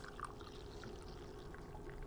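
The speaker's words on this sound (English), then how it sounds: "And now I've got my chai cup. I'm gonna pour it into there" Foamy chai tea is poured into a cup, making a soft, steady trickling stream that runs throughout, faint and close by, with no talking.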